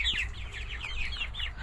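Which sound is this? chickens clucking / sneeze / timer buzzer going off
chickens clucking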